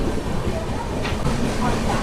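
Riding the Secunderabad–Shalimar weekly AC express as it runs through Eluru station without stopping, a steady low rail rumble with faint wheel clatter fills a brief moment from inside the coach.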